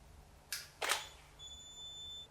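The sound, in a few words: camera shutter firing at water drops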